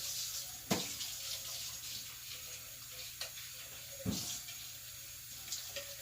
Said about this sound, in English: So I'll go ahead and rinse my blender.